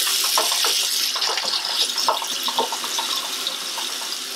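Water running steadily from a tap into a container while mixing a Unicolor C-41 film developing kit, a close, continuous splashing rush with no talking.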